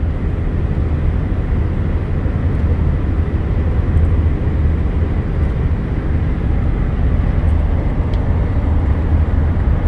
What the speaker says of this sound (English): our little ride in the Chevy 3500 Savannah cargo / passenger van